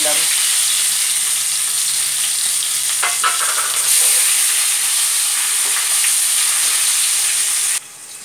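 Chopped onion dropped into hot ghee mixed with refined oil, tempered with bay leaf and whole spices, gives a loud, steady, close sizzle with a few stirring scrapes, cutting off abruptly near the end.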